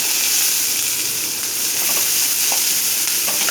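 Onions tossed into hot oil after the tempering has crackled give off a steady, loud frying hiss up close. Faint pops and stir noises come through now and then, with no talking.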